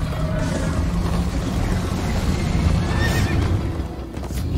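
A horse neighs and gallops in the Minecraft Story Mode video game, a loud whinny rising over steady pounding hoofbeats and dense game sound throughout.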